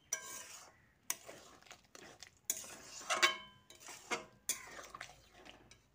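A spoon stirs water into a soybean and potato curry in a metal pot, with sharp scraping clinks and knocks against the pot coming in irregular bursts with short pauses, close up and with no one talking.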